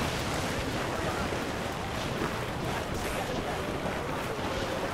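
Rough sea waves churn steadily in Assassin's Creed 4 during a naval battle, a dense continuous roar of surf and wind filling the whole stretch without pause.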